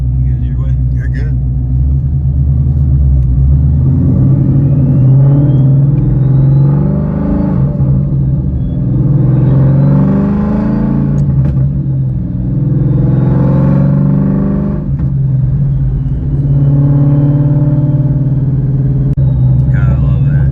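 Inside a 2016 Mustang S550 fitted with a 2.9L Whipple supercharger, the engine rumbles loudly and surges through several rising pulls with scattered pops, while occupants talk over the drone.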